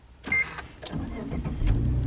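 A Subaru Legacy Touring Wagon six-cylinder engine cranks and catches after a short push-button click, settling into a low idle rumble close by.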